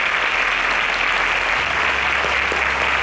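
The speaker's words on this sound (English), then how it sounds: "Can we give a round of applause to all our Super SPAKs?" Steady audience applause fills a quiz show studio during the foundation round of a semi-final, a dense even wash of clapping held at constant loudness throughout.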